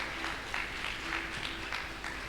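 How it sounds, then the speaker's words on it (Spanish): A church congregation claps during a sermon in a soft, continuous patter of applause with no voices over it. "Dele un fuerte aplauso al Rey de Gloria."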